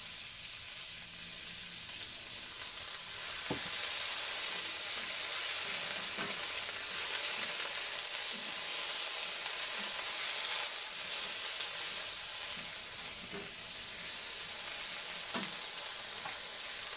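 Asparagus and anchovies stir-frying in a pan after a splash of water, a loud continuous sizzle with occasional scraping knocks of the spatula, close with no talking.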